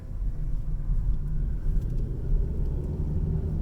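Car pulling out onto the Bristol Highway in Johnson City, Tennessee, a steady close low engine and road rumble inside the cabin with no talking.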